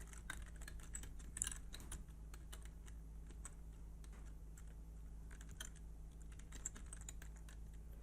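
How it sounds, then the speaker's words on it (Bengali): Typing on a computer keyboard while entering a line of text in Microsoft Word, a steady run of close, light key clicks with a few louder taps over a low constant hum. "এই যে দেখুন, আমি এখানে একটি লাইন লিখলাম"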